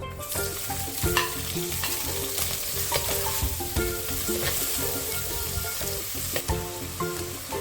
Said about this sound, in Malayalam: വെളിച്ചെണ്ണ നന്നായി ചൂടായി അതിലേക്ക് ഒരു പത്ത് ഉള്ളി ചെറിയ ഉള്ളി ചതച്ചത്